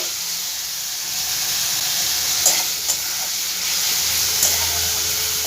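Fish sizzles steadily in hot oil, a continuous close hiss with a few faint clinks and pops.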